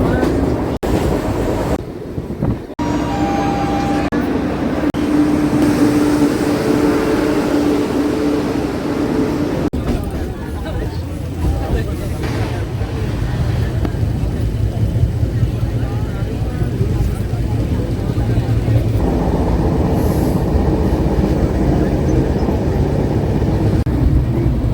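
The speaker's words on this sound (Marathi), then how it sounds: "चाललो आम्ही गावाला ट्रेनने." A passenger train travelling through the countryside gives a continuous loud rumble and rattle of the moving carriages, steady throughout with a brief dip near the start, and voices faintly present at times.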